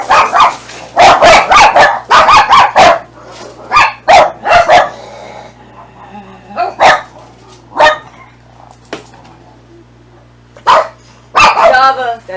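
A household dog barks at something seen through a door window: a burst of loud, close, sharp barks in quick clusters, then scattered single barks and a final flurry, with a few quieter spoken words between them.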